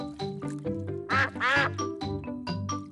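Cartoon ducks in the Peppa Pig's Golden Boots mobile game quack repeatedly in a busy, overlapping chorus, loud and close, with bright musical game tones running underneath.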